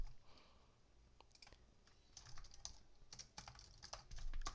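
A computer keyboard is heard nearby in a quiet room: a run of light, irregular key taps that grows busier toward the end, with an Enter keypress among them and no voices.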